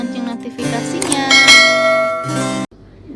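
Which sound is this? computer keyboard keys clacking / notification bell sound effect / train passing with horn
notification bell sound effect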